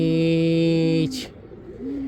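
Rare Sinai pigeons coo close by in a small enclosure, a strong sustained tonal call that breaks off after about a second, followed by a brief rustle and a softer, shorter coo near the end.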